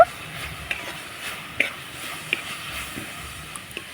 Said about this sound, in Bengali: নাড়াচাড়া করে পুরটা তৈরি করে নেব